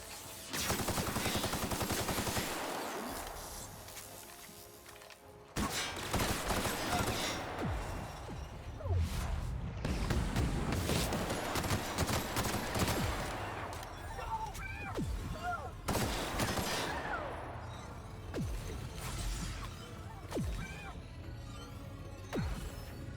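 Gunfire in The Outer Worlds, dense rapid shots and bursts filling the whole stretch, loud and continuous with crashing impacts, with a voice speaking briefly underneath.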